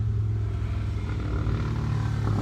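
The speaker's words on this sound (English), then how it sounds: "A very loud motorcycle." A very loud motorcycle rumbles steadily nearby, a thick continuous engine drone with no pauses and no one speaking.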